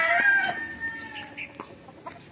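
A rooster crows once, loud and near, its call falling away and followed by softer clucking from the farm fowl.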